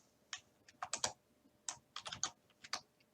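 Keys tapped on a computer keyboard in quick, irregular bursts of a few strokes each, close and fairly quiet, with no one speaking.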